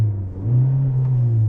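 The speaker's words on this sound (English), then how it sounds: "So we're gonna rev it up a little bit" A 2024 Hyundai Elantra SEL sedan engine revs up from idle toward its 4,000 RPM soft limiter in a short, close rumbling rise that holds steady, with no talk over it.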